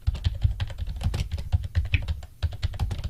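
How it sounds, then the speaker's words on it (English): Typing on a quiet computer keyboard during a podcast session, a brisk, irregular run of close key clicks and taps with brief pauses, heard alone without talk. "And as you hear me typing,"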